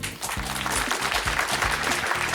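A studio audience claps on an Azerbaijani ATV television show, a short dense burst of applause over a low, steady tonal sound.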